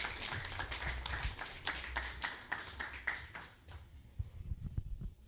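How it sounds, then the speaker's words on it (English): Audience applause at a community meeting in Woodland, Oropouche West: a small crowd claps in a loose, uneven patter for about four seconds, then fades to a few scattered claps and room noise. "Let's give him a round of applause."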